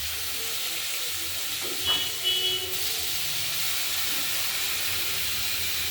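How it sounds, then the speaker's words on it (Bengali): Chopped radish and vegetables for a Bengali bharali ghonto go into hot oil tempered with mustard seeds, giving a steady close frying sizzle and hiss with a brief louder burst as they land, no talking. "এবার ধীরে ধীরে আমরা সর্ষে ফোড়ন দেওয়া তেলে আমরা এগুলো তুলে দিয়ে দেবো"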